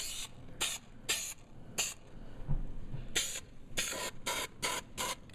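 Aerosol adhesive sprayed in repeated short bursts while fitting a trunk liner on a Victory Vision motorcycle, roughly a dozen hissing blasts of varying length close by with brief pauses between them.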